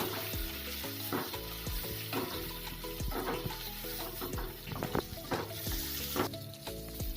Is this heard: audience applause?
no